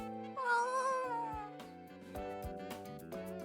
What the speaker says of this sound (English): Latte, who apparently noticed that she's the current center of attention, meows and nuzzles against Koron's hand again.